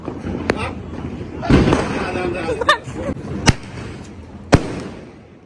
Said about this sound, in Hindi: यहाँ पे आराम से पटाखे फोड़ सकते हो